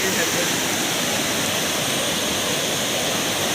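Steady broadband rush of a river swollen by heavy rain in the Konkan, loud and continuous throughout with no pauses, churning close by.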